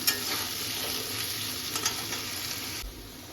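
A fish head frying in a pan until light brown, a dense, close, steady sizzle of hot oil with faint crackles throughout, heard alone with no talk.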